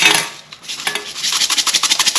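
Minced onion being stirred into a slider meat mixture in a bowl, a run of quick, close, rhythmic scraping and slapping strokes that grow steadier toward the end.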